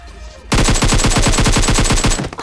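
Rapid automatic gunfire bursts out suddenly in a mobile battle royale game, a loud, dense stream of shots hitting the player for about two seconds before cutting off.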